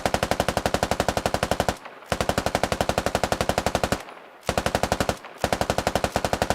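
Sustained automatic gunfire on a tactical shooting course, rapid loud bursts of shots broken by two short pauses.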